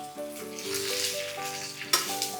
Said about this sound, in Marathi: इथे पापलेट फ्राय करतात ते बघूया आपण